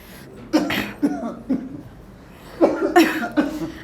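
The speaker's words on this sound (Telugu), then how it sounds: "రాత్రి నుంచి మా నాన్నగారికి ఒకటే దగ్గుతున్నారు" An elderly man coughs repeatedly at a doctor's clinic in a comedy sketch, with a run of three or four harsh single coughs, a short pause, then a tighter burst of several more, close and fairly loud.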